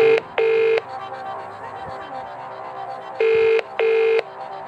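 Telephone keypad dialing tones from the phone-a-friend lifeline in the PS1 game Who Wants to Be a Millionaire: two short beeps, then a pause, then two more, loud and clean over a soft hum of background music.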